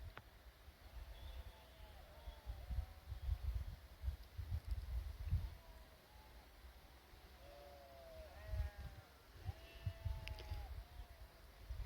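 Sheep and goats grazing on the open hillside pasture at Sinthan Top bleat repeatedly from a distance, several faint overlapping calls over low wind rumble and rustling.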